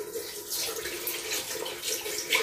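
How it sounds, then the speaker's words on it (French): Water splashing from a tap while a face is rinsed after a mask, a soft continuous running and splattering close by with small irregular splashes, no voices. "Maintenant, rinçage."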